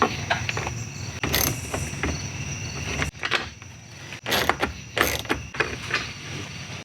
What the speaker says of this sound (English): So you have 1, 2, 3 screws. T20 fits them. You have to take these out real fast.